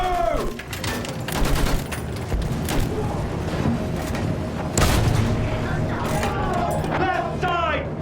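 Battlefield 1 combat with heavy booms and bursts of gunfire, mixed with shouted voices, rumbling engine noise and whistling shell sounds, loud and chaotic throughout.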